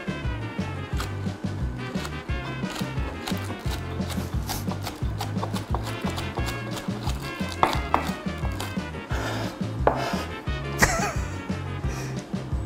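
A knife chops spring onion on a cutting board in a home kitchen, with quick, uneven taps knocking against the board over a low background hum.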